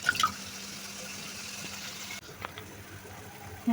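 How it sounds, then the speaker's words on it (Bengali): Fish being washed with salt and lemon in water: soft running water with light splashes and a few small drips, quiet and close, with no talk. "এই যে মাছগুলোকে লবণ আর লেবু দিয়ে ধুয়ে রাখছি।"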